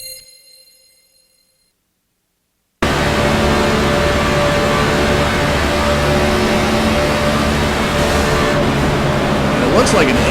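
Race car engine heard on board in an oval racing game, Gen 6 stock car at Talladega Superspeedway: a loud, steady high-speed drone that starts abruptly after a near-silent moment and holds at full volume throughout.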